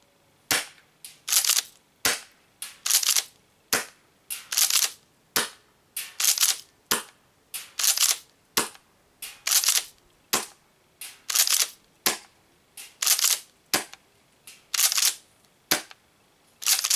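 A Tokyo Marui M870 Breacher airsoft gas shotgun fires again and again at close range, each sharp pop followed by a hissing burst of gas in a steady rhythm, with no talk.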